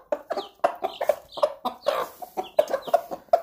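Young backyard chickens cluck rapidly and excitedly while being fed dandelion greens and clover, a close, busy run of overlapping clucks and short calls with no talk.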